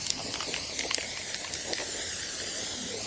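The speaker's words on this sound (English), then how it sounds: "Directly spray at it." Heat-proof silver spray paint hisses from an aerosol can onto a car engine cover in a continuous, close spray lasting a few seconds, with no talking.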